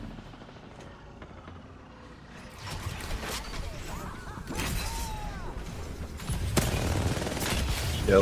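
Automatic R9 gunfire in Apex Legends ranked play, dense bursts of rapid shots with explosive cracks and battle noise, growing louder from about three seconds on, with faint talk underneath.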